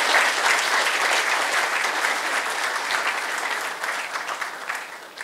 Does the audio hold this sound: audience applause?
yes